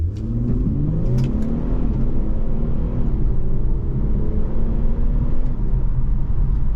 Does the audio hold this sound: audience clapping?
no